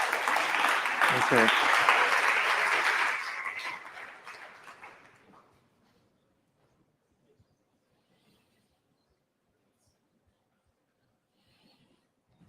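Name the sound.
audience applause for Richard at NixCon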